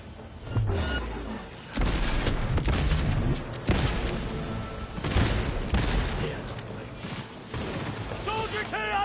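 Gunfight in Cyberpunk 2077 erupts into heavy bursts of automatic fire and booming impacts, with mechanical clanks and clatter between volleys, loud and chaotic with short lulls.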